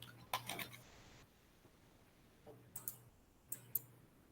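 Short bursts of computer keyboard typing, quick light clicks in two or three small clusters separated by quiet pauses, heard close and soft.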